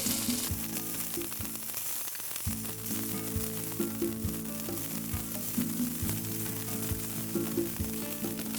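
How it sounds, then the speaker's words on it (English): Barley frying in browned butter, a soft continuous sizzle with occasional crackles, fairly quiet and sitting beneath steady rhythmic background music. "my butter got melted and browned. I like to brown my butter. I'm gonna add the barley."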